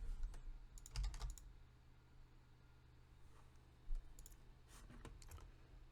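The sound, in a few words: typing on a computer keyboard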